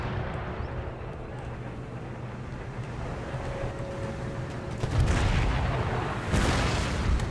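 Heavy booming artillery fire from howitzers in the video game Empire: Total War, a low continuous rumble with two louder blasts swelling in later on, no talk over it.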